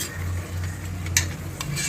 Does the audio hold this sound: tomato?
yes